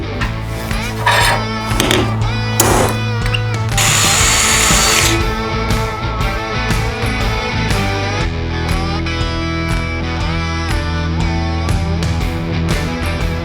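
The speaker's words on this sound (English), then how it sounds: "get this hole drilled in this thing" A power drill bores a hole through a metal tab on a 1948 GMC pickup truck, its steady whining hum swelling into a louder, harsher grinding burst partway through before settling back.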